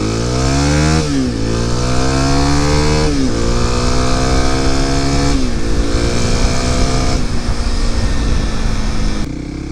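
A Kawasaki KLX300 dual sport motorcycle accelerates hard on the road, its loud, close engine climbing in pitch through several gears with brief dips at each shift, no voices.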